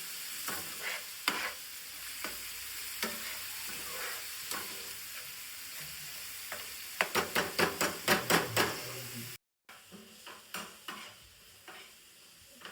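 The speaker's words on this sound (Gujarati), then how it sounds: "ડુંગળીને થોડી શેકાવા દઈશું આપણે." Onions frying in a pan, a steady hiss of sizzling oil broken by a rapid run of sharp spatula taps and scrapes against the pan, close and fairly loud, with a brief silent gap before the stirring resumes.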